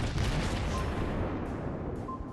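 Naval gunfire from a warship in the video game World of Warships Blitz, a single heavy, booming cannon blast followed by a rumbling decay, loud and alone.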